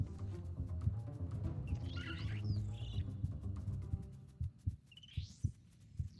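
Low, steady heartbeat thumps from the Spore video game, growing more distinct toward the end, with faint bird-like chirps and game ambience behind.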